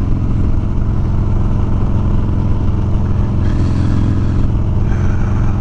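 A motorcycle engine holds steady at 2500 RPM with a fitted Power Vision autotune, a loud continuous close rumble with no variation in pitch.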